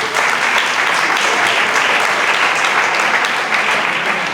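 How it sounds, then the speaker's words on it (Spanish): An audience at a book presentation in Lebrija applauds a radio sound technician with steady, dense, loud clapping that holds evenly for the whole stretch, with no voices. "Un aplauso para Antonio."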